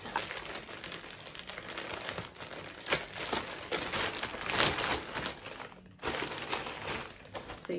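Plastic shipping packaging for a clothing haul crinkles and crackles steadily as it is opened by hand, close and fairly quiet, in bursts of rustling without speech.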